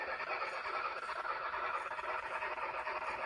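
Model steam train climbing a 2% grade on a model railroad layout, a faint, steady mechanical whir and rattle that carries on evenly throughout, heard from the control panel.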